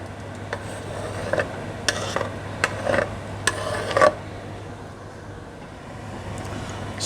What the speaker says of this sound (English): Stir those sausages in.